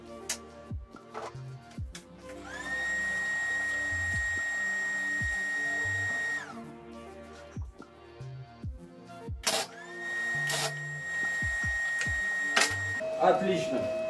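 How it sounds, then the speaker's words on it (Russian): An arc welding machine switches on and tack-welds a broken band saw blade on a worktable, a steady electrical whine for several seconds followed by short, sharp crackling bursts of the arc, with muffled talking and clicks around them. "Включаем сварочный аппарат и варить будем точками."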